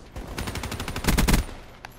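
Rapid automatic gunfire in Call of Duty: Black Ops III, a fast, evenly spaced string of close shots peaking in the middle before a lone faint report near the end.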